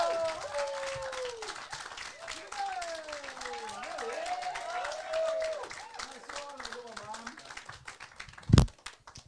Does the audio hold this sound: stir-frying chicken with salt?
no